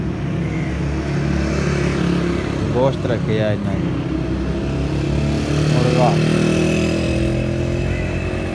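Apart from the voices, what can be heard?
motorcycles passing in front of the shop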